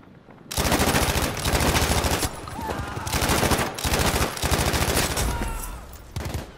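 Sustained automatic gunfire in the Battlefield V Firestorm mode, loud close bursts of rapid shots in several long strings separated by brief pauses.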